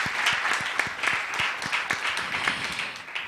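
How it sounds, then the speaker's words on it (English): Audience at an international security forum claps steadily, a dense close patter of many hands running throughout with no one speaking over it. "Let's give them a big round of applause."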